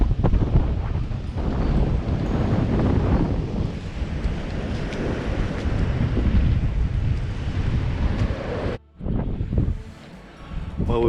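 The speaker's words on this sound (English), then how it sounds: "the wind is very, very strong, up to the lighthouse" Strong wind gusting on a coastal cliff walk up toward a lighthouse, roaring across the microphone in a loud, continuous buffeting rush that drops out briefly near the end before picking back up.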